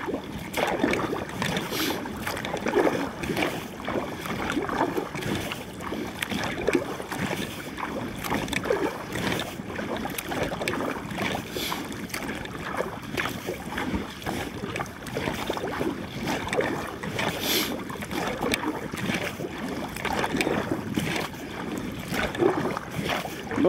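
Small waves lap steadily against a small boat on Lake Neusiedl, a continuous close wash of water with some wind rumble over the microphone and no voices.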